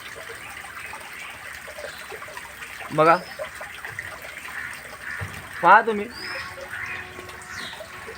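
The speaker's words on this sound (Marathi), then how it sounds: "हे पाणी पण वेस्ट चाललंय बघा" Water runs to waste from a drinking water tank with no lid, a steady low hiss and trickle in the background while someone speaks briefly twice over it.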